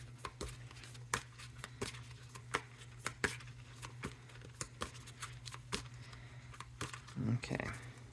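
Tarot cards shuffled by hand in a quiet room, a quick run of soft riffling flicks and taps with sharper snaps scattered throughout, and a brief rustle near the end.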